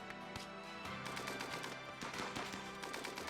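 Colonists fire guns during a raid in the video game RimWorld, a rapid rattle of many shots overlapping in dense, continuous bursts.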